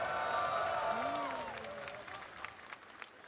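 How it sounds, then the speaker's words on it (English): Crowd at an EVO fighting-game tournament watch party cheering and applauding, a dense, loud wash of clapping and shouts that gradually thins toward the end. "I want to hear the crowd get hyped for Excalibur Blades"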